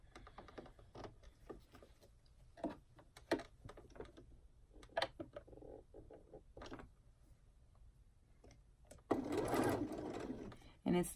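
A home sewing machine runs in short, intermittent bursts while basting layers of swimsuit fabric for a reversible scoop bikini, with a longer, louder run near the end and someone talking softly throughout.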